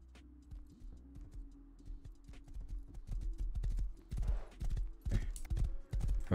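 Horse hooves clip-clop in the survival game Rust, a run of sharp, close hoofbeats that starts light and grows louder and faster toward the end, with no talking.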